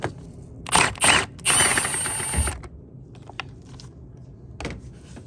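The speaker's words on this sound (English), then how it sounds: "remove the 12mm with the bracket down in there" A 12mm bolt on a Toyota Camry battery bracket being loosened: a few close, loud bursts of ratchet clicking, the longest about a second, then quieter handling noises and a last brief ratchet burst, with no talk.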